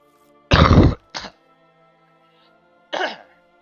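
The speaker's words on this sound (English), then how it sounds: "just had to cough, got that out the way with" A single sharp cough bursts out at close range, followed by a brief second cough and, after a pause, one more short cough-like clearing of the throat against near silence.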